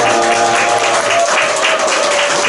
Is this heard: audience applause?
yes